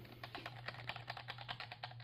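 Keys on a new keyboard click in a quick, irregular run of crisp taps, fairly close and quiet, with no voice over them.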